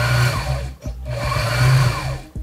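Domestic sewing machine motor running with the needle clutch released so the needle stays still; a loud, steady whirring hum with brief dips as the pedal is pressed and eased, no talking.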